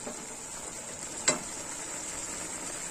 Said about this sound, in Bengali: এবার আমি পালং শাকটা দিয়ে দেবো।